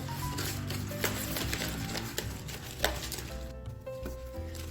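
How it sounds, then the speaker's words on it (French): A whisk or spoon stirring sugar into brownie batter in a bowl, with soft repeated scraping and occasional clinks against the bowl, close and fairly quiet over faint background music. "on commence à mélanger jusqu'à faire dissoudre"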